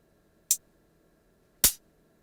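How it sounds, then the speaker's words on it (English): Two short, bright closed hi-hat hits from a Roland XV5080 synthesizer fitted with a dance expansion board ring out alone against silence, spaced about a second apart. "it is two closed hi-hat sounds"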